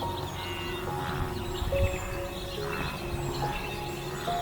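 Faint, thin bird chirps sound in short scattered calls over a soft, steady wind across open savanna grassland at dusk, distant and quiet throughout.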